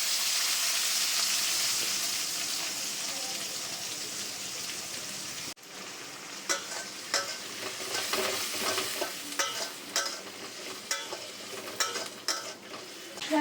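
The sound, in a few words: onions frying in oil with bay leaf and garam masala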